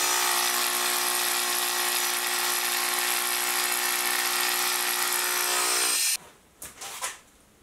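Milling machine with a two-flute end mill cutting steel at high RPM, a loud steady whine with harmonic tones that runs for about six seconds, then cuts off into a few faint clanks.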